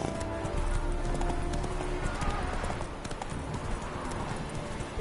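Horse hooves clip-clopping steadily at a gallop in the video game The Witcher III, loud and continuous, with a whinny and a voice mixed in.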